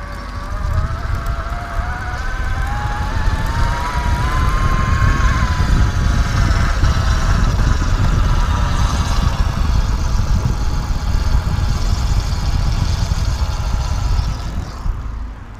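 A Rubbee Drive 2.0 friction-drive e-bike motor drags against the rubber tire while the bike coasts, making a steady whining hum with layered tones over rolling road and wind noise.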